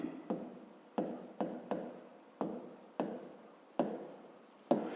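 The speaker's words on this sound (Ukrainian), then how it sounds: "Ну і записуємо." Pen writing by hand on paper while working a fifth-grade maths exercise: repeated short strokes, about nine scratchy onsets with fading tails, close and fairly quiet, with no talk.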